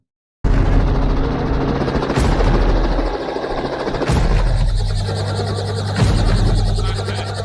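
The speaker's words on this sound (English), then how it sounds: "Actually delivering real Uber Eats with an actual helicopter." A helicopter delivering Uber Eats food roars close by, with a loud, steady engine drone, pulsing rotor noise and a few sharp bursts throughout.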